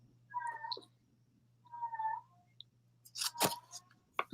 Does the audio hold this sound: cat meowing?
yes